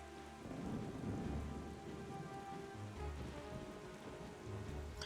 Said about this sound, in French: là, il y a de l'orage et tout, ça donne pas envie